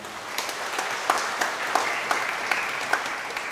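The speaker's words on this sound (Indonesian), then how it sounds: "kita berikan tepuk tangan bagi mereka." A church congregation at Sunday Mass claps together in sustained, even applause, a steady wash of many hands with a few sharper individual claps standing out, moderately loud in a reverberant room.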